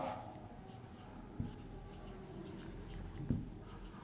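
Chalk or a marker moves across a classroom board in soft, continuous scratchy strokes with two sharper taps. The sound is faint and close, over a quiet room hum, with no voice.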